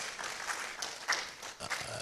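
Audience applause at a college of health and allied sciences convention, a broad steady wash of clapping from a seated crowd lasting about two seconds, moderately loud with slight swells.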